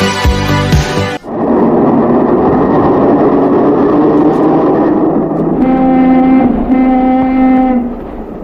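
A car horn sounds as a radio-theatre effect, a long sustained blare under a low engine-like drone, first steady and then joined by a second, brighter honk near the end.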